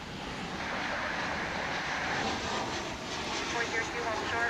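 Alaska Airlines jet on approach to land at DFW International Airport, a steady broad engine roar at moderate distance, holding even and fairly faint throughout.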